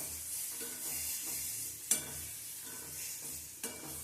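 Eggs frying in oil with spices, a faint low sizzle with soft stirring and two sharp utensil taps against the pan.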